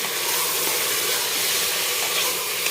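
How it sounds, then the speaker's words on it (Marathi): Mutton sizzling as it fries over a high gas flame, a steady loud hiss that holds without a break. "फास्ट गॅसवर आपल्याला 5 मिनिट चांगलं परतून घ्यायचं आहे"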